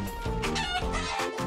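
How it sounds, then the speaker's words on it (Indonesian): A chicken clucks and crows over a dense, noisy background; the calls are steady, loud and close throughout, with no voices. "Itu pemimpin ayam."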